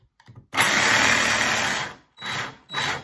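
A Dewalt battery jigsaw with worn brushes runs in bursts: one long buzzing, whirring run of about a second and a half, then two short spurts after brief pauses, with faint clicks before it starts.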